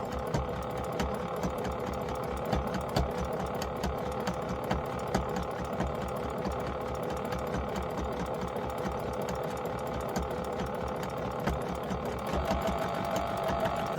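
A sewing machine stitches a straight seam through fabric for scrappy holiday towels, giving a steady, quiet mechanical whirr and rapid needle chatter that runs unbroken from start to finish.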